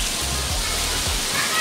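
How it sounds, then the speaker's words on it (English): Heavy rain pours down outdoors in Taiwan, a dense, loud, continuous hiss of falling water with a few low bumps at the start. "It started to rain. And it was pouring down."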